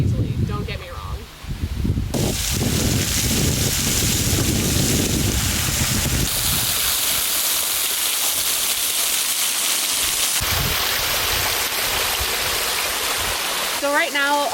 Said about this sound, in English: behind me is Upper Hailey Falls. It's a waterfall